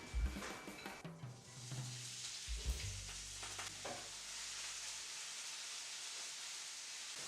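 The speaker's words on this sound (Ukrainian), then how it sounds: "Цибулю обсмажую до гарного золотистого кольору" Soft clatter of stirring onions in a frying pan at first, then a steady, quiet sizzle of the onions frying.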